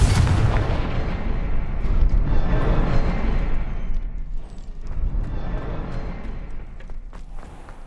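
The Confringo blasting spell explodes in the game Hogwarts Legacy. Heavy, booming rumbles roll out at once and slowly fade into a lower, faint tail.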